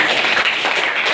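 Audience clapping for a student's presentation about her school, a steady, dense patter of many hands filling the whole moment, close and fairly loud with no talk over it.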